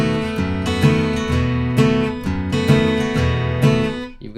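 Bluegrass rhythm guitar strummed with the fretting hand left down so the notes ring on, steady close strums with sustained chords blending between strokes, no voices.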